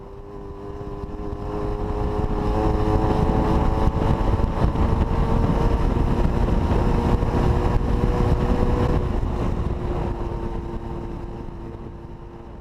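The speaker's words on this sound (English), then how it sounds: "occasionally I get lazy with the gears, forgetting that this baby doesn't share the traditional Panther grunt" A Panther Villiers 250 twin motorcycle rides along a road, its engine droning steadily and loudly with a rising, sustained buzz that swells in and fades slightly at the end, mixed with wind rush.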